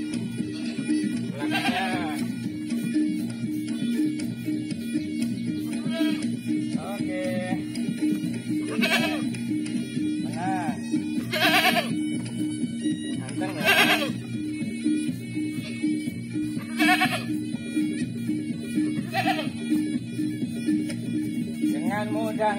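A goat being washed and scrubbed with a brush bleats several times at irregular intervals, its cries rising over a steady, fairly loud background noise.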